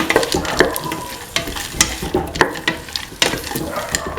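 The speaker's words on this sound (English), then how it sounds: "Thoroughly mix in the green peas" Green peas are stirred into a sizzling tomato and winter melon mixture in a pan, producing repeated scraping strokes and clacks of the spoon over a constant frying sizzle, fairly loud and close.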